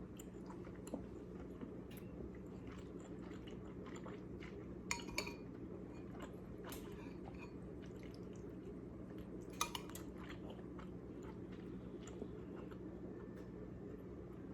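Someone chewing a big, chewy ball of cheese at a table, soft moist bites and squishes close up, with occasional clinks of cutlery and dishes over a low hum.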